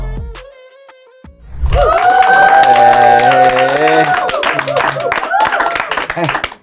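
A studio audience at an Indonesian talk show breaks into a burst of clapping that runs for several seconds, mixed with loud laughter and overlapping voices.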